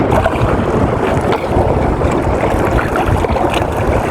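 Strong wind buffets a boat out at sea, a loud, steady roar of wind and water rushing past the microphone for the whole stretch.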